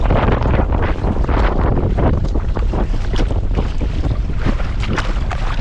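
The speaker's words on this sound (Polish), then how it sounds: "Fal nie ma, bo jesteśmy między wyspami, to bez znaczenia, ale wieje." Strong wind roars and buffets the microphone continuously while kayaking on open water between islands near Nynäshamn, Stockholm, a loud dense rush with gusty pulses and faint water sounds beneath, no talking.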